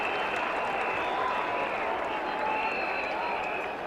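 Cricket crowd at the 1988 England v West Indies Test applauding a boundary four struck by Malcolm Marshall, a steady broad wash of clapping and murmuring that carries on evenly from start to finish, loud and dense.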